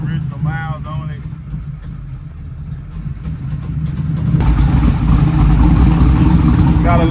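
A 1979 Chevrolet Malibu with a freshly swapped engine and a small camshaft, warm and idling with a low, steady rumble that grows louder and fuller partway through; a voice is heard briefly near the start.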